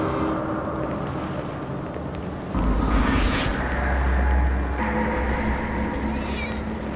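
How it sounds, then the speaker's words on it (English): Cats meowing in the video game Hitman: Codename 47, clear cries heard over a steady low engine or boat rumble and game ambience, with no talk over them. "Cats."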